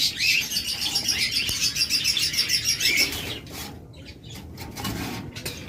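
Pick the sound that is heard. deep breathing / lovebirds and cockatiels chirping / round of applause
lovebirds and cockatiels chirping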